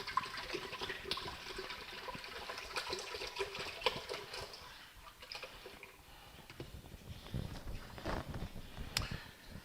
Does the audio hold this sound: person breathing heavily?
no